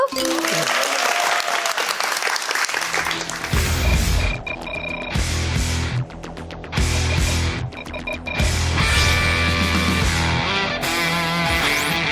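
A lecture-hall audience at a talk show breaks into loud, sustained applause after a quiet start, dense clapping swelling and dipping briefly before rising again, close and full.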